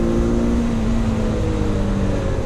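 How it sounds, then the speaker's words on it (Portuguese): A SYM 300 or Scram 411 motorcycle engine revs steadily under acceleration, a loud continuous droning hum with a low buzzing tone running throughout, no voices. "Dá uma acelerada aqui."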